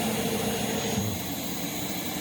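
Rainbow D4C AquaMate vacuum cleaner running with its end cap removed for more airflow, exhaust air blowing out the back as a steady, close, loud whooshing hiss with a constant motor whine.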